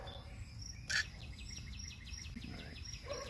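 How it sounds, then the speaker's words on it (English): Sparrows and house finches chirping around an outdoor deck, with quick repeated high tweets, one brief loud chirp up close, and a soft background hum. "How many freaking sparrows do we got?"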